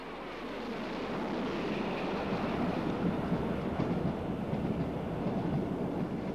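A Great Western King class steam locomotive hauling the Bristolian express, a steady rolling roar of the train passing that swells in the first second and holds, with no voices.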